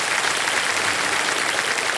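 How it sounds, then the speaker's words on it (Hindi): A studio audience on a TV quiz show applauds to welcome a contestant, a brief, even burst of dense clapping with no voices over it. "वाह, तालियां बज जाए स्वागत के लिए।"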